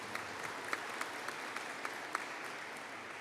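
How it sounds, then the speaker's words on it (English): An audience at a university engineering and informatics graduation ceremony claps in a sustained, even round of applause, a dense wash of many hands heard from a distance with faint individual claps poking out. "I think you preempted me with a well-deserved round of applause there"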